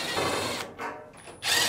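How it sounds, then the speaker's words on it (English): A power screwdriver whirs in short bursts removing Phillips screws from a Fisher & Paykel dryer's front panel, stopping briefly between runs, close and fairly loud. "start by removing the two Phillips screws on the front"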